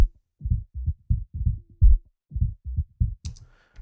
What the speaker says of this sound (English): in this channel we're only going to get the bass frequencies through